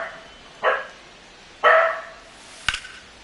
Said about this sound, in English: Why are you barking at yourself?